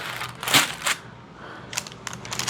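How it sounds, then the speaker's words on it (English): Parchment paper crinkling and crackling as something is slid underneath it on a baking setup with blueberry cookies, a few short crisp rustles close up and a quieter scrape between them. "I'm just going to slide this underneath this parchment."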